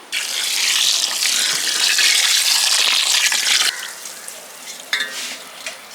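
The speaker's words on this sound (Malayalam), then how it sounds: "പൈനാപ്പിൾ മൂടിക്കിടക്കാൻ പാകത്തിന് വെള്ളം ഒഴിച്ചു കൊടുക്കാം" Water pours steadily and loudly over pineapple pieces for several seconds, then stops, leaving quieter splashing and a few light clinks.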